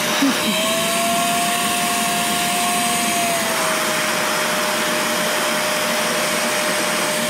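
A homemade bee vacuum runs close by with a continuous, loud whooshing roar and a steady motor whine whose pitch dips slightly partway through.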